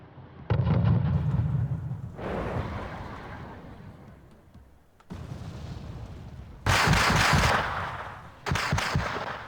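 Tanks and support units in Wargame: European Escalation fire into a town, with booming cannon shots and rumbling explosions arriving in separate loud bursts, some sharp cracks and heavy low thuds, with no talk.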